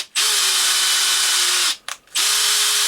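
A Makita DHP459 cordless combi drill runs freely with no load in short bursts. It whines at a high, steady pitch, stops briefly, blips once, then runs again, loud and close.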